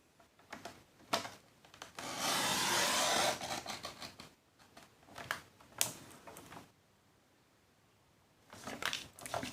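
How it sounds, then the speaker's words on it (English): Craft card being cut from the first score line to the last: a close dry scraping run of about a second, then scattered short rubs and taps on a quiet background, with no talking. "you're just going to cut from all the way from the first score line right down to the last"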